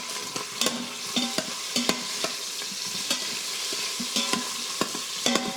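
Meat browns in an Instant Pot for red beans and rice, a light sizzle under repeated stirring clinks and scrapes from a utensil against the pot, with no talking.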